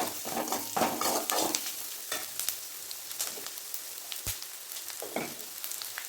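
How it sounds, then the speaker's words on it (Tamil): Chopped large onions frying for veg biryani, a steady close sizzle broken by repeated scraping stirs, with a sharp clatter near the middle and softer sizzling toward the end. "பெரிய வெங்காயம் கொஞ்சம் கட் பண்ணி வச்சுருக்கோம், அதை கீழே போட்டுக்கலாம்."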